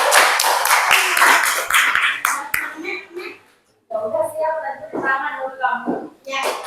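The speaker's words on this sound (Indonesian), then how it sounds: "tepuk tangan dulu untuk Nikita" A small group claps for a student named Nikita in a classroom, a brisk few seconds of sharp, close clapping that stops abruptly, followed by a pause and then talking.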